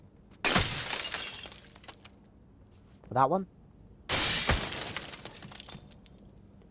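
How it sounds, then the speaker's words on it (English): Two loud glass smashes in Hitman 3, each a bright shattering burst with trailing tinkle, separated by a few seconds; a brief spoken question falls between them. "Even if I smash two glasses, they don't even hear much."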